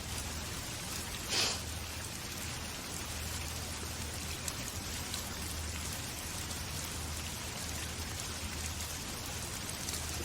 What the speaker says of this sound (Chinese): 听着雨声睡挺舒服的。